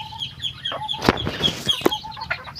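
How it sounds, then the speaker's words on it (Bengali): Mother hen with her chicks, clucking in soft repeated bursts nearby, with occasional sharper calls and faint chick peeps around her. "এই যে বাচ্চালা মুরগিটা ছেড়ে দেওয়া হয়েছে।"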